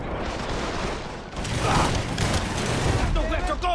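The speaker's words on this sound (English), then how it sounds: "throwing grenades!" Gunfire and grenade blasts in the Mafia III ending mission Stones Unturned, on PC: a steady, loud barrage of shots and booms that swells after the first second and stays dense throughout, with a voice shouting over it.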